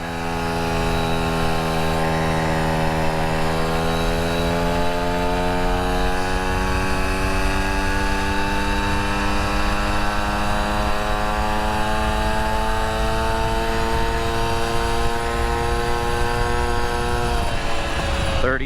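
Vespa Ciao moped fitted with a DR kit, ridden with the small two-stroke engine buzzing steadily close up, its pitch climbing slowly through the run before dropping off abruptly near the end.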